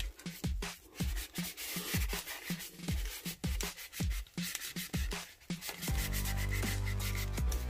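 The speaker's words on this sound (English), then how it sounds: "giving it a light sand just all around the plastic so that it just roughs up the surface" Rhythmic back-and-forth rubbing of sandpaper on a plastic toy, close up, in short repeated strokes, then a steadier continuous scrubbing toward the end.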